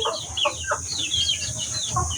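Egg-laying hens on a small backyard poultry farm clucking in short, irregular bursts, fairly close and moderately loud, with no voices over them.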